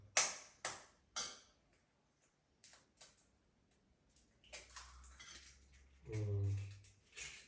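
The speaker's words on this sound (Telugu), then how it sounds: "కొన్ని ఉల్లిపాయలు ఉల్లిపాయలు కోసుకుంటా" A knife chops through onions on a board in a home kitchen, several sharp separate knocks at the start, then quieter scattered clinks and a brief rattle of dishes near the end, close and without voices.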